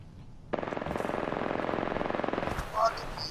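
Automatic gun in an online shooter video game spraying a fast, even burst of rapid shots for about two seconds, loud and close, cut off abruptly, with a brief voice at the end.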